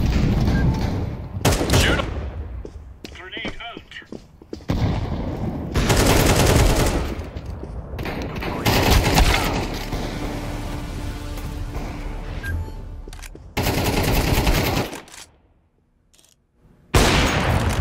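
Counter-Strike 2 gunfire on the Office map crackles in loud rapid bursts and sprays, stopping and restarting repeatedly through the clip, with a short quiet gap near the end.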